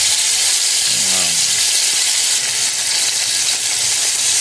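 Chicken pieces frying in oil over low heat, a steady broadband sizzle and hiss throughout with a brief low bubbling burst near the start.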